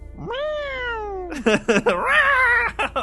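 Cats yowl and cry as a sound effect in an audio drama, opening with one long rising and falling wail and then breaking into shorter overlapping meows and caterwauls, fairly close and clear.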